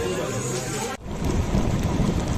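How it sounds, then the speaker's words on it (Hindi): Heavy rain pours down during a trip from Gulmarg to Srinagar, a loud, continuous hiss that cuts off abruptly, then returns with low thunder rumbling under the downpour. "क्या भयानक बारिश हो रही है"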